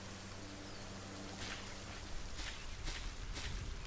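Steady rain hisses in the farming and automation game Solarpunk, a constant wash of falling water with a few brief louder patters toward the end, heard alone with no talking.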